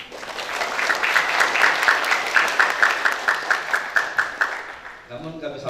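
Audience applause at an academic graduation ceremony in Banjarmasin honouring cum laude graduates, a steady wash of many hands with some rhythmic unison clapping, fading as a voice resumes at the end.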